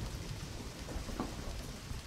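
Steady rain falls in the video game Deadly Premonition, a dense, even hiss of downpour filling the scene with a faint low rumble beneath and no voices.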